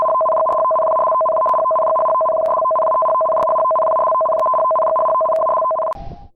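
A loud, steady two-pitch electronic alarm tone blares continuously with rhythmic pulses, then stops abruptly near the end.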